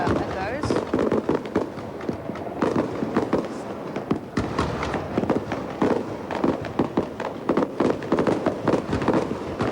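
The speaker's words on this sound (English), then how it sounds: "They're the daylight fireworks." Daylight fireworks at the 1988 World Expo opening ceremony, a dense run of sharp bangs and crackling bursts at varying distance, with people talking throughout.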